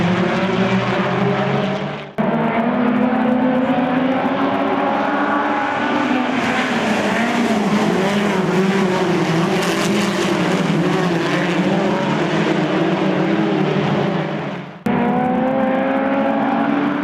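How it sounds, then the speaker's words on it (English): ARDC midget race cars circle Williams Grove Speedway behind the pace car, their engines a steady, loud, continuous drone with a rough roar that briefly drops away twice. "The pace car leads the field around."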